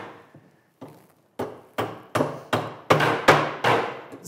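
A hammer tacks a nail into a wooden piece with about ten sharp, ringing strikes. The blows start light and sparse, then grow louder and come in a steady rhythm, close by.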